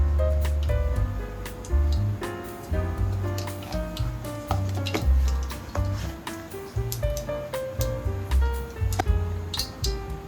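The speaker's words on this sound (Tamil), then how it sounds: "இப்போ நான் கடுகு ஆட் பண்ணிக்கிறேன்." Mustard seeds added to a generous amount of hot oil, sizzling and crackling with scattered sharp pops, close and moderately loud over a soft background of music.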